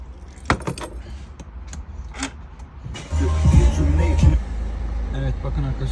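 Keys jangle in short metallic bursts close by, followed by a Peugeot 3008 Allure engine starting and idling with a steady low hum.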